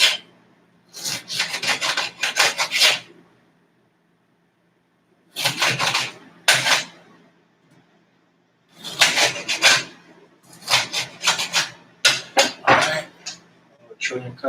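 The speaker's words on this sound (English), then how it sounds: "I'm gonna go for like little thin cuts, little thin slices." A knife slices a green bell pepper into thin strips on a cutting board at home, giving repeated raspy cutting strokes in three close bursts separated by short pauses.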